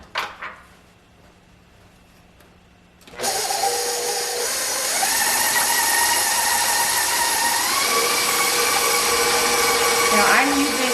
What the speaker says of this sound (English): Now I'm using my handy dandy KitchenAid mixer